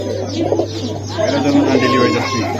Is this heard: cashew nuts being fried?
no